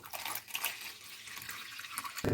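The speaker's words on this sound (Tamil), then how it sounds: "இதேமாரி ரெண்டு மடங்கு நம்ம தண்ணி சேர்த்துக்கணும்" About 270 ml of water is poured onto caustic soda while making kuppaimeni herbal soap, giving a faint, steady splashing trickle with a brief louder splash near the end.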